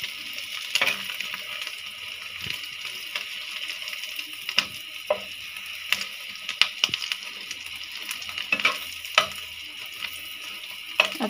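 Sliced okra (bhendi bhaji) frying in a pan gives a steady bright sizzle dotted with sharp crackles and pops, close and uninterrupted by talk.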